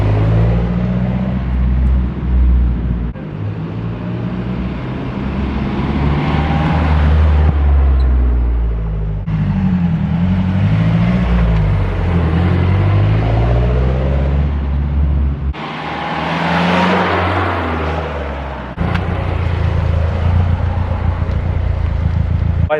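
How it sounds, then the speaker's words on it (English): A Mazdaspeed3 fitted with JBR and CPE motor mounts drives past outdoors on a windy day, giving a steady, loud engine drone that swells and fades, with wind rumble throughout; any transmission whine is hard to pick out. "I just want to drive by the camera just to see if you guys can hear the transmission"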